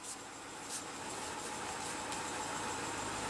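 A 2016 BMW 750i with a 4.4-liter twin-turbo V8 idles just after start-up, giving a steady, even rumble with a light hiss on top. It is heard from inside the car and stays fairly quiet and constant throughout.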